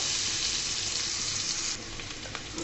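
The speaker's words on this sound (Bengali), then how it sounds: "এগুলাকে আমি ভাজা ভাজা করে নিব, একটু বেরেস্তার কালার করে নেব বন্ধুরা" Onions frying in a pan until golden brown, a loud steady sizzle close up that eases slightly near the end with faint stirring; no voices.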